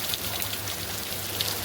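Steady rain falls outdoors in a dense, even hiss of drops hitting surfaces, continuous and fairly loud with no voices over it.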